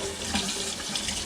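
Tap water runs steadily into a kitchen sink while bread dough is being prepared, a close, continuous hiss and splash with no talk.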